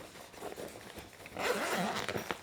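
A zipper on a tough camera lens case with a drawstring is run open or closed, a close scratchy zip rising in the second half, alone without speech.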